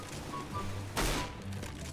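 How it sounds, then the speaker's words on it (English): Gunfire from wall bangs in Counter-Strike: Global Offensive: one sharp, loud burst of shots cuts through the steady game background partway through, then the ambience settles again. "Just going for random wall bangs."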